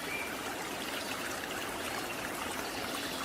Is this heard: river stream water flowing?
yes